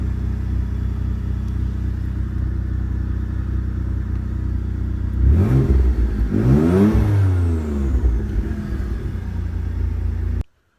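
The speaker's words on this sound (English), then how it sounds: "so the car starts" A Mitsubishi 3000GT cranks and fires up midway, its engine catching with a short rev before settling into a steady idle, heard close over a constant low background rumble.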